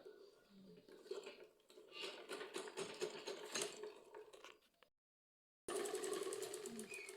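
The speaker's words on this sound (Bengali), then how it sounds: "সোজা দিকে বেল্টের ধার দিয়ে চাপ সেলাই দিয়ে নেবো একটা" A sewing machine topstitches along the edge of a fabric belt, running steadily up close with mechanical rattling for about five seconds, cutting out briefly, then starting again.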